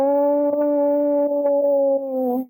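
A human voice imitates a Bigfoot moan howl in the style of the Ohio howl, a single loud, steady sustained tone held for about two seconds before tailing off sharply.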